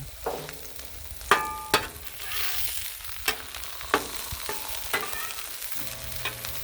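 Mushrooms fry in butter on a flat griddle with a steady sizzle, punctuated by sharp metal spatula scrapes and taps that come at irregular intervals, close and clear with no talking.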